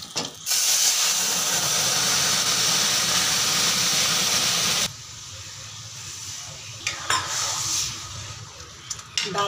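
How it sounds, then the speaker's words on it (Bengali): Dal (lentils) bubbling in a pot over a village kitchen fire, a loud steady hissing boil for several seconds that then drops to quieter bubbling with a few knocks and clatters. "ডালটা ফুটবে, তারপরে নামিয়ে নেব"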